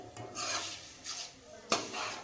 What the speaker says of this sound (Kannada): ಈಗ ಮೆಂತೆನೂ ಚೆನ್ನಾಗಿ ಫ್ರೈ ಆಗ್ಯಾವ.